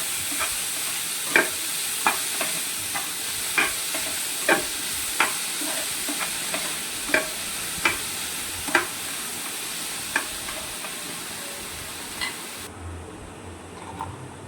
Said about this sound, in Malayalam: എന്നിട്ട് നമുക്ക് നല്ലപോലെ സവാള ഒന്ന് വഴറ്റിയെടുക്കാം.